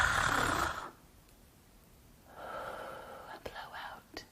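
A voice imitates a big snoring breath for toddlers: a loud raspy inhaled snore up close, a pause, then a softer breathy exhale with small clicks.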